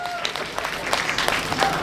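Audience applause for University of Dhaka performers at an inter-university cultural competition, a dense, steady wash of many hands clapping in a hall, moderately loud with some crowd noise mixed in.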